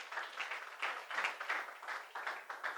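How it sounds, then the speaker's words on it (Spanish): Congregation at a church service applauding, a steady wash of many hands clapping at moderate distance in repeated swells, no voices over it. "Démosle un aplauso al Señor"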